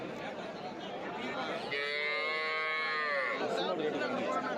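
A cow at a busy cattle and buffalo market gives one long, loud, nearby moo midway through, over a constant murmur of crowd chatter and general market noise.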